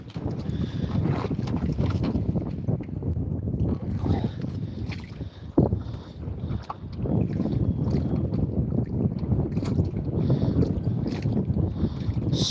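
Wind buffets the microphone out on a small fishing boat, a loud rumbling roar that rises and falls over rippling water, with a brief thump midway.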